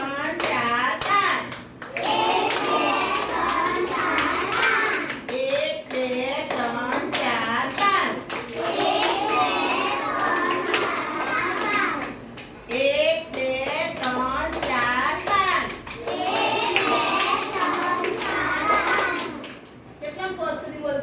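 Children in a classroom clap in counted bursts during a circle-time activity, with groups of claps separated by short pauses, while kids' voices and an adult's speech run throughout.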